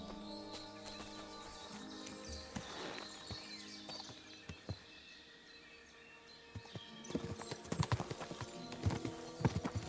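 Horses' hooves clip-clop on the ground in the medieval game Kingdom Come: Deliverance 2. The hoofbeats are scattered at first, then grow louder and denser toward the end over faint birdsong.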